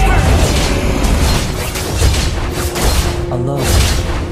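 Booming explosions and crashing bursts from a turret being destroyed in the Mobile Legends mobile game, loud and dense, layered with busy game effects.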